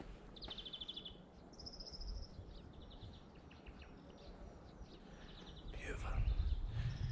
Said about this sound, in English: Can you hear those birds? Listen.